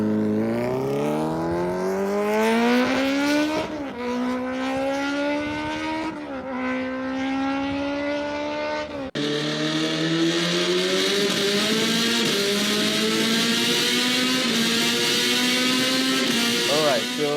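The engine of a Kawasaki Z900 motorcycle revs up again and again in rising, loud sweeps while riding, then settles into a sustained high-pitched drone after a brief cut.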